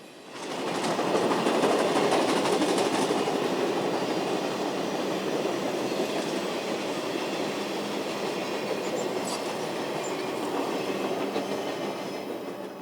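Nickel Plate 765 steam locomotive rolls steadily along the old Wabash rails near Fort Wayne, Indiana, a loud continuous rumble with rhythmic clatter and faint squeals, no voices.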